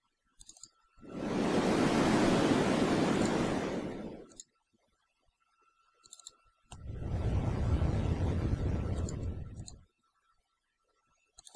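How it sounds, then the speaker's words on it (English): Two long surges of synthetic ocean-wave noise from the rancorSynth synthesizer, each swelling and fading over a few seconds, separated by near silence with faint clicks. "I've got 4 ocean sounds"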